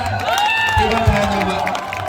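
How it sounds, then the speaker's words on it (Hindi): At a football prize distribution ceremony in Dudhiyashol, a crowd cheers and shouts close by, excited voices rising and falling, with some scattered clapping mixed into the noise. "लक्ष्मण लगी जोरदार तालियां हो जाए।"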